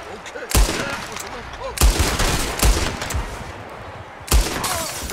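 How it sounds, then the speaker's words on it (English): Repeated gunshots ring out during a shootout ambush in the video game Red Dead Redemption 2, with four sharp, loud cracks spaced irregularly over a bed of continuous battle noise and distant shouting. "There's another one shooting from the window!"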